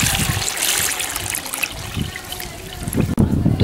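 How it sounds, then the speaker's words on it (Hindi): Clear lime water poured from a vessel into a cooking pot while making Agra petha, a continuous close splashing trickle that swells and eases, ending with a brief pause before pouring resumes. "अब चलिए पानी को हम भगोने में गिराते हैं"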